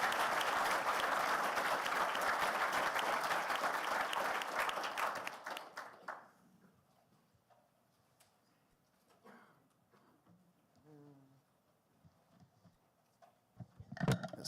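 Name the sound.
conference audience applause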